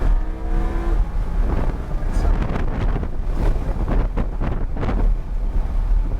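A Lamborghini at full throttle on the Homestead Miami race track, a loud roaring engine rising in pitch over heavy wind buffeting on the microphone, with rapid surges that could be gear changes.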